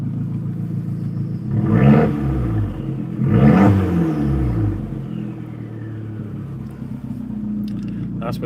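A car engine revs up twice with a throaty, rumbling exhaust note through an open exhaust valve, then settles into a steady idle drone.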